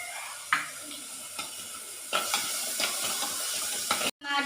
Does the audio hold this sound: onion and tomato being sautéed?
yes